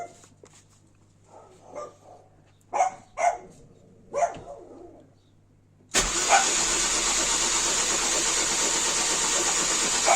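A car engine cranks over on a first start attempt after base timing troubleshooting, with a loud, continuous mechanical whir filling the second half. Before it, a dog barks in several short bursts.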